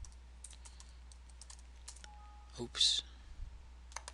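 Code typed on a computer keyboard, sparse individual key clicks in a quiet room with one brief louder burst, and a short spoken interjection partway through.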